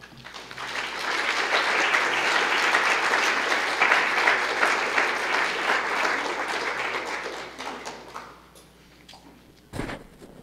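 Evening lecture audience at an art museum applauding to welcome a curator to the stage, a dense sustained round of clapping that swells, holds and tapers off, ending with a thump near the end.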